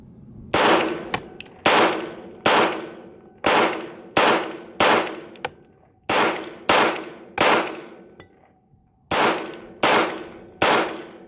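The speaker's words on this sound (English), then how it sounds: "Got some magazines ready. We're gonna shoot it." Pistol shots from a CZ Shadow 2 Carry, a dozen sharp loud reports fired in quick irregular strings with brief pauses between groups, each cracking close and decaying with a short ringing tail.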